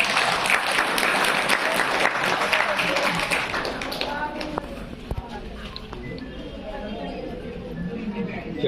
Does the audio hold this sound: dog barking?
no